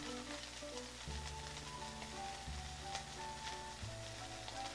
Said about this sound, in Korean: 여기에 이제 춘장을 넣어서 30초 정도 그 이상으로 같이 볶을 거거든요